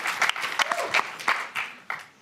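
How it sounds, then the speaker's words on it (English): An audience at an MIT startup pitch competition breaks into a brief round of scattered clapping that rises and fades over a couple of seconds. "Now we can clap."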